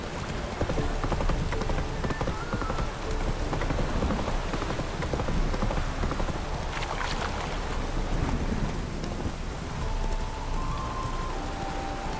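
Hooves of Roach, a horse in The Witcher 3, clip-clop at a steady run through heavy rain, the rainfall hissing continuously over the galloping rhythm.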